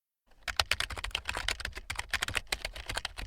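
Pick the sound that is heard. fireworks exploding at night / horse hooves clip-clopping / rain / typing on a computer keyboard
typing on a computer keyboard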